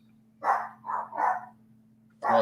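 Dogs barking indoors nearby, four short, loud barks in a quick cluster and then one more after a pause, over a steady low electrical hum.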